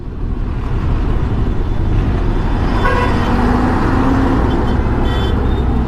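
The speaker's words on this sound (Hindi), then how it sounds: "फिर से ट्रैफिक जैम और क्या हुआ है आगे पता नहीं" A highway traffic jam on the road from Ankleshwar to Pune: a dense, loud rumble of idling cars and trucks, with car horns tooting repeatedly through the middle and latter part.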